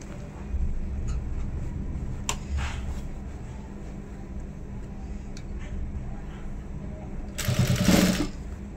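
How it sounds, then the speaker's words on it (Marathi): Sewing machine stitching the hem of a cotton dhoti, a faint steady mechanical whirr running throughout with a louder burst of stitching near the end, with no voices. "त्यानंतर आपल्याला इथे शिलाई लावायची आहे"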